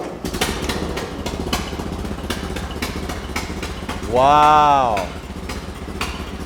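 A 1941 Ford 9N tractor engine runs with a steady, close, loud chugging beat; partway through, a man's excited exclamation rises over it before the engine carries on alone.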